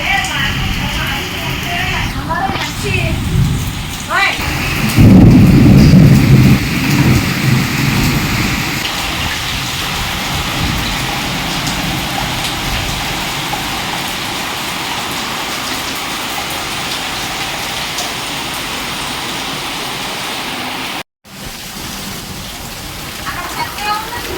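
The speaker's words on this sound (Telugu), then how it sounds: "ఫుల్ వర్షం మామూలుగా లేదు" Steady heavy rain pours at night with a dense, hissing roar amid lightning and wind-tossed trees, and a person speaks over it; a brief dropout interrupts near the end.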